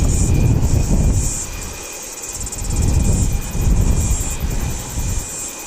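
An aircraft roars loud and close at Wellington Airport, heard from a nearby beach. The steady jet-engine rumble swells and dips with a high whine laid over it.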